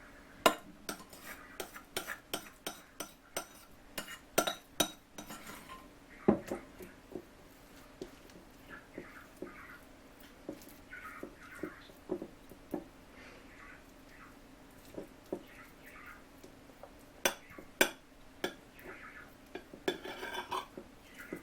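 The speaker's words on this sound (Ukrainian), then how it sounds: "і гарно все перемішуємо. Перемішуємо і викладаємо на наш оселедець." Grated beetroot being stirred and mixed in a bowl with a utensil, giving irregular clinks and taps against the dish over a soft squishy mixing sound, close and moderately quiet, with no talking.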